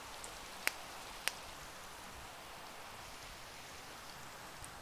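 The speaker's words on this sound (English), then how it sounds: "I'm going to turn off the rain real quick" Steady soft rain hiss from a Minecraft game fills the background, with two sharp clicks standing out near the start.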